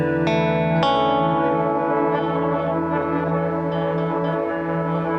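Chase Bliss Lost and Found multi-effect pedal set to a resonator effect, ringing sustained, heavily reverberant tones with two sharp plucked attacks near the start that bloom and hold steadily at high volume, no voices.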